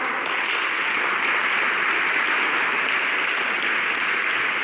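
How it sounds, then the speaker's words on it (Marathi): An audience at a village farming event in Shirasgaon, Nashik, claps together in a steady, dense wash of applause that holds evenly throughout, with no talking over it. "आता सर्वजण टाळ्या वाजवा"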